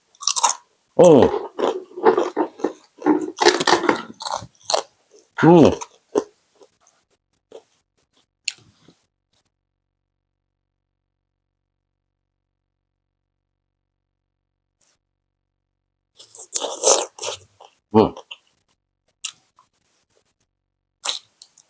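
Crunchy cassava chips are bitten and chewed close to the mic in bursts of crisp crackling, a long quiet gap between them, during a homestyle mukbang meal.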